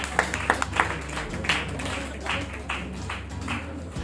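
An audience at a teachers' honouring ceremony in Mullaitivu gives sparse, fairly faint hand claps, with scattered individual claps standing out over a low electrical hum.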